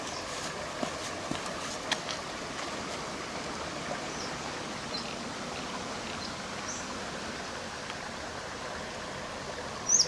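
Water in Maddens Creek runs with a steady, broadband rush, a continuous close flow with faint scattered ticks and a brief knock near the end.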